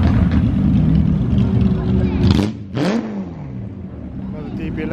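A TVR sports car accelerates away from a supercar weekend event, its engine revving loud and close, then cutting sharply before pulling off again and fading slightly as it leaves.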